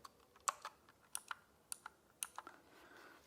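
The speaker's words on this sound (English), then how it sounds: "And here's what they sound like." A 60% 68-key mechanical keyboard with blue switches being typed on, giving a handful of sharp, clicky keystrokes at an irregular pace, fairly quiet and close, with no talking.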